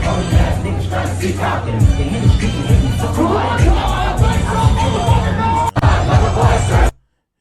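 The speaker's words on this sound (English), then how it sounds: "this crowd going crazy" A packed concert crowd roars and shouts continuously, a loud dense wall of cheering voices with rising bursts, cutting off abruptly near the end.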